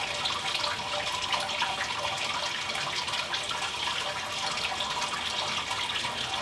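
Water drains steadily from a homebrewing vessel in a continuous rushing, trickling flow that stays at an even level with no break and no voices.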